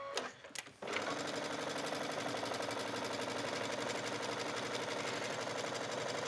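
A sewing machine stitches a buttonhole into a skirt waistband with ribbed knit and fusible interfacing, starting after a brief pause and then running as a fast, steady, even whir of stitches that holds close and unbroken to the end.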